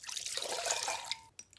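91% rubbing alcohol is poured into a cup in a thin, soft, close liquid trickle lasting about a second, ending in a couple of small drips.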